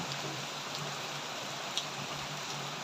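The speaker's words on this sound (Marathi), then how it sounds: "जोरदार अशा प्रकारचा पाऊस झालेला आहे मित्रांनो आज." Heavy monsoon rain falls in a steady, even hiss of dense droplets, close and continuous, with a faint drip standing out now and then.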